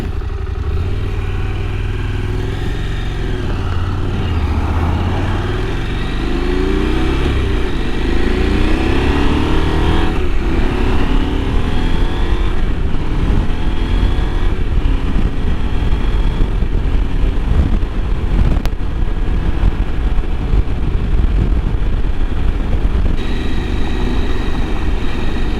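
A KTM 890 Adventure motorcycle engine runs steadily and loud throughout, its pitch rising and falling as the throttle is worked, with a broad rumbling drone and clattering texture up close.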